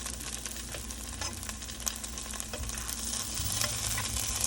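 Steak for fajitas frying in a pan with almost no oil: a steady, close sizzle and crackle with occasional stirring or shifting noises throughout.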